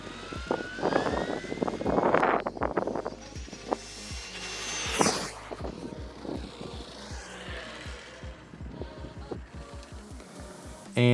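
Traxxas TRX6 RC truck on a speed run on a hot road, a whining electric motor rising in pitch as it accelerates away, then passing and fading with rhythmic ticking and a sharp noise at the end.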